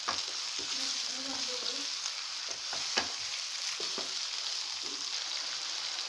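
Chicken sautéing with tomatoes in a pan for a Lahori murgh chole makes a steady, close sizzle, with occasional knocks and scrapes of a stirring spoon and no speech over it.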